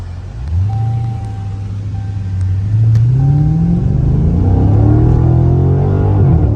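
A Dodge 392 Scat Pack's engine rumbles and revs through its exhaust, a deep, loud, close idle that climbs steadily in pitch as the throttle builds, with no talk.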